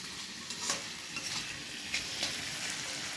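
Onions frying to golden brown in a pan for chicken curry, a constant soft sizzle with intermittent scraping stir strokes and light clinks of a utensil against the pan.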